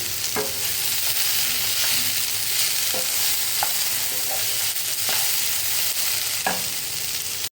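Grated radish stir-fried in a pan, a steady broadband sizzle with intermittent scraping clicks of the spatula as it is stirred until the water cooks off, close and continuous with no talk.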